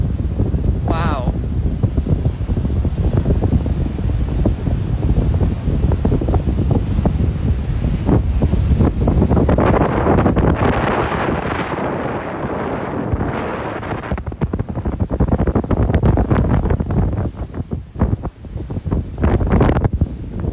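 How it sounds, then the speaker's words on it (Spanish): Strong seaside wind buffets the microphone at sunrise as a loud, continuous roar with gusting rumble and surf wash, and a voice speaks partway through. "El viento me va a tumbar."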